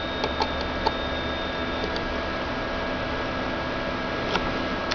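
A 1.8-inch Toshiba 30 GB hard drive idles with a steady electronic whine and faint hum, broken by a few soft ticks from the drive.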